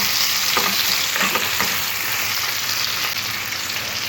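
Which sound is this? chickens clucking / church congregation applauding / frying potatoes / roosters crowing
frying potatoes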